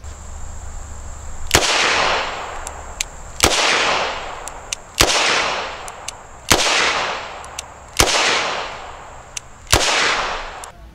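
Six handgun shots from a double-action pistol at an outdoor range, each a sharp loud crack with a ringing decay, spaced about one and a half seconds apart over a steady background hum of insects.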